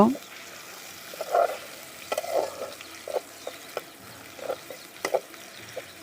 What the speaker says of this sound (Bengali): পেঁয়াজ রসুন কুচি আর কাঁচামরিচ কুচি আমি ভালো করে নেড়ে নেব